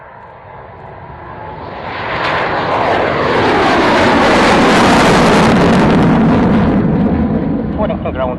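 Aircraft taking off for a display at the RAF Waddington airshow, a loud engine roar that swells over a few seconds and holds strong with wind buffeting, while radio voices talk over it.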